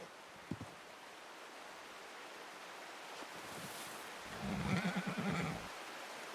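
A horse whinnies for about a second in Red Dead Redemption 2, over a steady, faint ambient wash, preceded by a soft thud.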